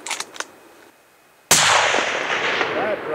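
A single loud gunshot while hunting, a sharp close blast with a long rolling echo after a quiet moment of faint voices.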